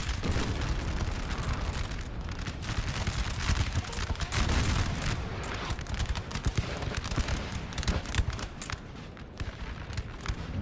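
Massed battle noise in Napoleon Total War: a continuous roar of volleys and booming artillery that stays loud and dense, with shots overlapping throughout and no clear gaps.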